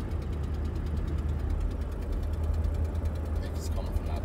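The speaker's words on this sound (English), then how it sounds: "If you can hear the exhaust," Exhaust of a 1990 Oldsmobile with a 200-4R transmission cruising with the converter locked up, a faint, steady low drone with even road vibration throughout.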